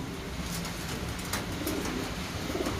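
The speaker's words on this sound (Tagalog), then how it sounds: "Yan po, sunod-sunod po bumabalik yung mga ibon natin." Racing pigeons returning to a loft in Tarlac, with soft cooing and fluttering over steady outdoor background noise, fairly faint and continuous throughout.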